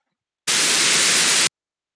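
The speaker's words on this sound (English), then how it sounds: "this is noise. Noise in the technical acoustic sense of non-periodic uh, sound that has energy at many frequencies simultaneously" A one-second burst of steady white noise, a broad non-periodic hiss that starts and stops abruptly, loud and even throughout, with silence before and after.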